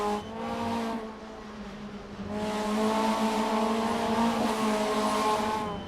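Skoda Octavia race cars running bumper to bumper in Assetto Corsa, engines droning steadily with a strong harmonic whine that dips briefly, then swells as they accelerate together, tires hinting at squeal; no voices.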